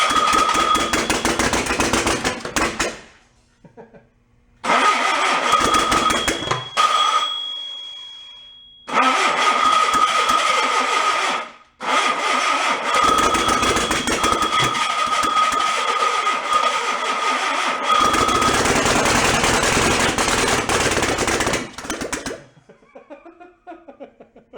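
An old, rat-infested VW engine cranks and catches repeatedly, running rough and loud in several bursts separated by abrupt silences, with a whining hum through the running stretches before it dies away.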